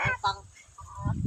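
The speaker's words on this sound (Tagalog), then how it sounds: "Di ara mga pato, ang bibi. Pato og bibi." Farmyard ducks calling in short honking bursts, close by, with a voice talking briefly over them.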